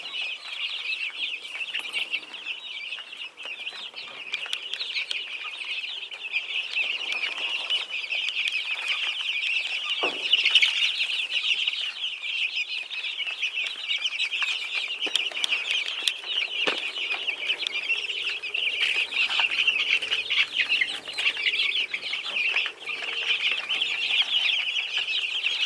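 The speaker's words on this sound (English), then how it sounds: "This is 71 layer chicks." About seventy layer chicks packed together, a dense, continuous high-pitched chorus of peeping and clucking with scattered wing flaps, loud and close, no talking.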